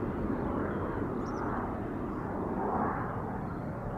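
An Airbus A350 airliner approaches Amsterdam Schiphol Airport with a steady, loud, broad jet roar that swells slightly and holds throughout, with no voices.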